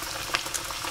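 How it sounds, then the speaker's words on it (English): A steady, crackling sizzle of tomato slices frying in hot oil, continuous and close, with a couple of brief sharper pops. "you should see sizzling like that, and there should be no smoking"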